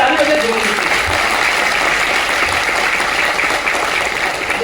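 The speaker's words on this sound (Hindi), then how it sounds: "जोरदार ताली बजे" Loud, dense applause from a seminar audience at a business talk, steady and sustained throughout without a break, with faint voices mixed into the crowd noise.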